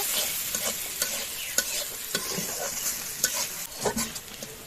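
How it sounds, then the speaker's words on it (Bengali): Onions sizzle in hot oil, with a spatula scraping and stirring at irregular intervals; no voices. "এই যে আমার পেঁয়াজটা খুব ভালো করে ভাজা ভাজা করে নেব।"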